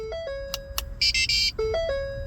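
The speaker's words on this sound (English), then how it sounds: "You'll hear a beeping sound to indicate that the 10 minutes countdown has started" Short electronic beeps and tones from a 2006 Lincoln Zephyr signal the start of a key programming countdown, a quick series of chirps and a brief higher double-tone burst, clear and close over a quiet background.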